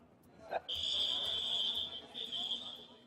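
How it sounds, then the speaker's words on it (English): A door alarm at an airport gate gives a sustained high electronic tone, loud and close, briefly dipping once before continuing, after a short thump and rustle at the start. "An alarm triggers. Thankfully, it's not a fire alarm, but a door alarm working normally as the inspection crosses secure areas."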